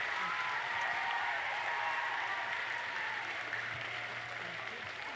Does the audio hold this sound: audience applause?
yes